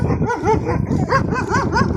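A dog barks and whines in a rapid, insistent series of high yelping cries, fairly loud and close, continuing without pause over background noise.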